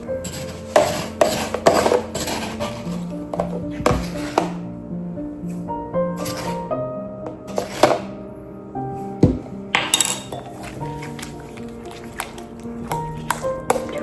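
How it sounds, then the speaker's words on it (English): Spoon scraping and knocking around a bowl while peanut butter is stirred into a sweetened mixture with golden monk fruit, with repeated close clinks and rubbing strokes in uneven rhythm. "Get the peanut butter mixed in."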